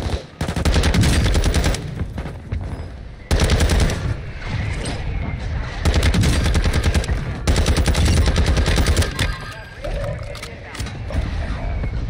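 Several loud, close bursts of automatic gunfire rattle out in Warzone 2, separated by short pauses, with mechanical clicks and clatter in between.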